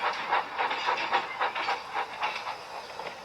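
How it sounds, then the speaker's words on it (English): A steam locomotive chuffs along with a steady, rhythmic puffing and hiss, about two beats per second, close and fairly loud, with no voices over it. "Edward picked up steam and proudly puffed past Spencer."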